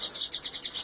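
Red canaries chirp in a quick series of high, bright tweets at a canary breeding farm, close and clear with no talking.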